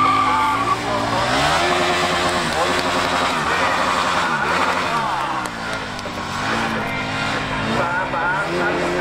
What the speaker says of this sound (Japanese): さあ、まだまだバーンアウトを続けています。